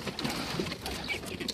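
Pigeon cooing close by, soft low murmuring coos with some rustling, a stray pigeon in hand, repeating over a short stretch with no speech.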